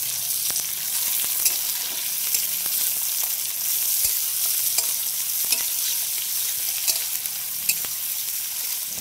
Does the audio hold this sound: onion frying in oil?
yes